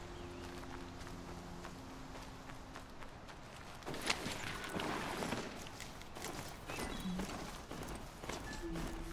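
Horse hooves clip-clop steadily on the ground in the video game Horizon Zero Dawn, a rhythmic run of close, fairly quiet hoofbeats with no talk over them.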